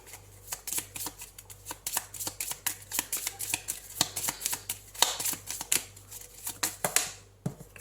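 Tarot cards being shuffled close up, a long run of quick, crisp riffling snaps and flicks in an uneven rhythm, with a faint low hum beneath.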